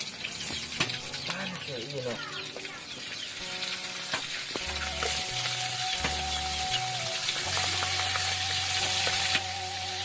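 Vegetables stir-fried in a pan for nasi liwet with sayur tumis, a steady loud sizzle with scraping stirs, mixed with background music tones and some voices.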